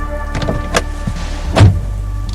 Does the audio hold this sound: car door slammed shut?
yes